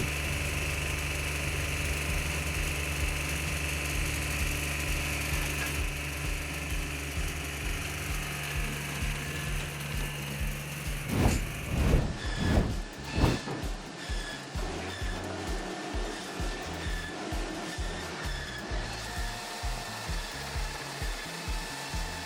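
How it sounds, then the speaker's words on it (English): A Binderberger 40-ton firewood splitter with a 12-pronged blade drives through hard logs, its engine droning steadily before a run of loud cracking, splitting bursts and rhythmic thuds as the wood gives way. "Binderberger 40-ton firewood splitter can split even the hardest logs in a short time"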